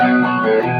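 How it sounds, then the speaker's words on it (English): A sustained, heavily distorted electric guitar chord played through a distortion pedal rings out loud and thick, fading slightly near the end. "Those two distortion pedals sound pretty similar."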